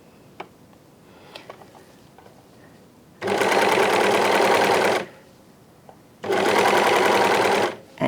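A sewing machine stitches trim onto a T-shirt neckline in two loud, even bursts of rapid whirring stitches, separated by quiet pauses with faint fabric handling.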